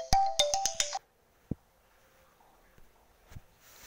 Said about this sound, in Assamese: sorry মোৰ ফোন এটা আহি গৈছিল দেই